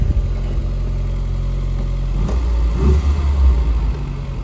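Rover Metro car engine running close by after an exhaust blow repair, a steady low rumble that rises into a heavier rev partway through, with no talking.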